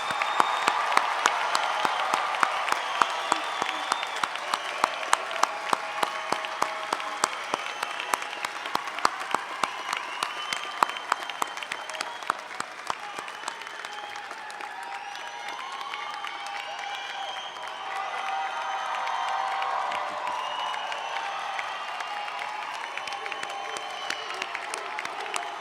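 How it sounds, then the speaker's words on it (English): A university commencement crowd applauds new graduates in a long, loud burst of clapping mixed with cheers and whoops, the clapping thinning slightly toward the end as crowd noise continues. "Let's all give our new graduates a big round of applause."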